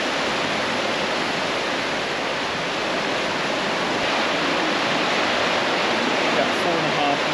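A loud, steady roar of rushing water fills the air without pause as about 4.5 million liters pour into a canal lock.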